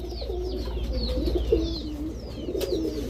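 Blue bar Budapest pigeons, a male and female pair, coo repeatedly close by, low throaty calls rolling in overlapping waves with faint higher chirps above and no talk.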